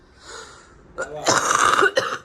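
A couple of rough coughs close by, followed by a short burst, with faint breathy sounds before them.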